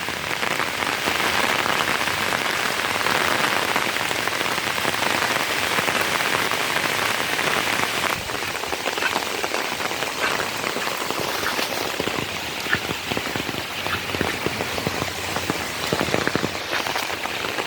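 Steady rain falling outdoors during a search for climbing perch in shallow water, a dense continuous patter on surfaces throughout, fairly loud and unbroken, without talk.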